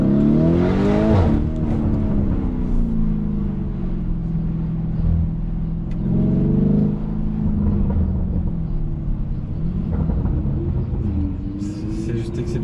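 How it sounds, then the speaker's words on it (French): A Lamborghini Urus crawling along at low speed, its exhaust burbling and rumbling with rising and falling engine tones and some crackling pops, close and loud. "19 km/h, l'échappement il pète comme si vous étiez à 300."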